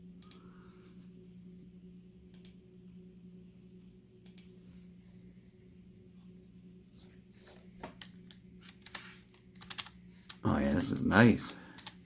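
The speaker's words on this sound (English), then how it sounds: "But we'll type in a little something in Google." Light, quick keystrokes from a RECCAZR MC500 gaming keyboard tap along softly and close by, ending in a louder flurry of typing; a voice speaks briefly.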